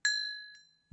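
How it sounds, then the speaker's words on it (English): A single bright glassy clink rings out in the block-building game Minecraft, ringing and fading over most of a second, followed by a soft low thump. "Ignore me breaking the glass."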